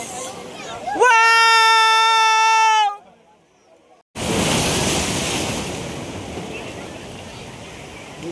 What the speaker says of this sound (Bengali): দীঘার ঢেউ আসছে